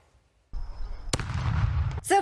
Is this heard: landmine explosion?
yes